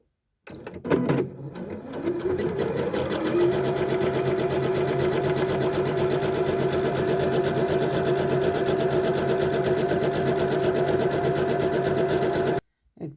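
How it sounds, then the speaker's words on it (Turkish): A sewing machine set to zigzag works an overlock stitch along a fabric edge for a bag lining, starting up and then running in one long, steady, loud whir with no pauses. "Makinayı zikzak ayarına getiriyorum. Makine ayağını kumaşın kenarına gelecek şekilde ayarlıyorum."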